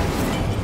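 Incendio fire spell cast in Hogwarts Legacy, a dense roaring burst of flame and crackle that fills the whole short moment at steady, loud level with no talk over it.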